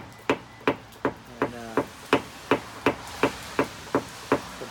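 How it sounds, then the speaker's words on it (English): A small hammer of about half a pound taps a BMW fender dent during paintless dent repair, giving a dozen close, evenly spaced light metallic knocks with no talking. "I'm just letting this hammer drop with the weight of about, I'd say maybe half a pound."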